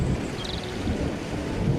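Heavy rain with a low, rolling rumble of thunder, a dense steady roar of downpour filling the short stretch with no voices.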